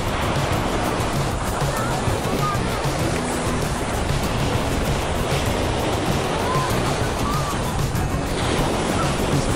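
Ocean surf washing onto a beach in the US, a steady broadband roar of breaking waves with wind noise on the microphone, continuous and fairly loud throughout.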